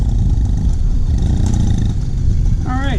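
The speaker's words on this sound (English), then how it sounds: "as you can hear, it's idling pretty nice" Inside a shop, a car engine idles smoothly while running rich, giving a close, dense low rumble that holds steady throughout, with a short burst of a voice near the end.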